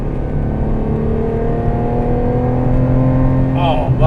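A 1991 Ferrari Testarossa's flat-12 engine pulls steadily under acceleration, a loud continuous drone with rising tones, heard up close from inside the car with a brief higher whine near the end.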